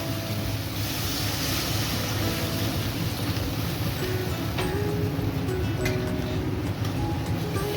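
Water pours into a pan of pomfret fish curry with coriander, a steady broadband rushing wash that runs continuously at a moderate level, close by, with no clear talking.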